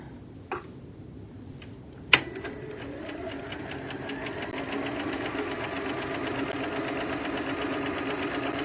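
A sewing machine runs steadily up close, its rapid ticking needle stitching a seam in a quilt block, following a couple of sharp clicks.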